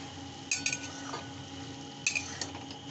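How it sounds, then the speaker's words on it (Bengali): Two metallic clinks as a lid settles onto a cooking pot in a home kitchen while a dish of shrimp with taro stolons cooks. The clinks are close and bright, with light rattles after each, over a quiet background. "এটা আমি একটু ঢাকা দিয়ে রাখবো"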